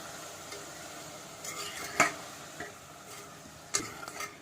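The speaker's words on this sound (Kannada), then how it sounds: "ಇದನ್ನು ಚೆನ್ನಾಗಿ ಮಿಕ್ಸ್ ಮಾಡಿ." A spoon stirs tomatoes with fenugreek leaves in a pan, giving soft scraping and a few sharp clinks of utensil against metal over a faint sizzle.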